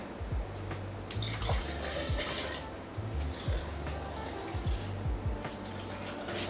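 A one-to-one mix of water and vinegar pouring and splashing into pickle jars with gurgling, bubbling tones, close up and fairly quiet, continuous with slight breaks.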